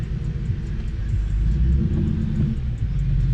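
A manual-transmission car pulls away from a stop after the parking brake is released, a steady close low engine rumble holding for several seconds with no talking.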